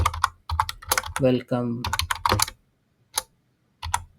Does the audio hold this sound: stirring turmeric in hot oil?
no